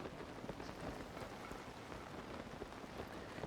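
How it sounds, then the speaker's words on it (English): Steady rain falling in Zelda: Breath of the Wild / Tears of the Kingdom, a dense, even patter of drops on surfaces that holds at a constant moderate level throughout, with no voices. "Dude, stop fake raining, for God's sake."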